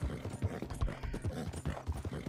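Hoofbeats of a flaxen chestnut Morgan horse in Red Dead Redemption 2 clop along in a steady, repeating gait, close and moderately soft with no voices over them.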